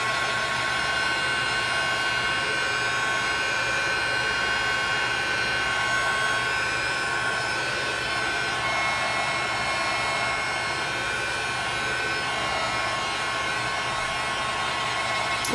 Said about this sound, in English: So pardon the sound of my heat tool.